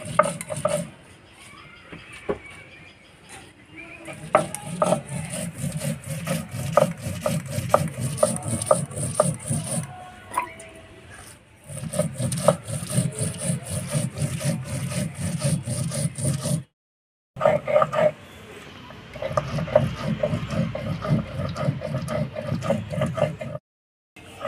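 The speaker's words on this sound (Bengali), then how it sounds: "সবাই তো মিক্সিতে বাটে, আমরা শিলনোড়ায় বেটে নিয়ে রান্না করি।" Cumin with dry and green chillies being ground on a Bengali sil-nora grinding stone, a close rhythmic scraping and rubbing of stone on stone repeated over and over, with a few brief pauses.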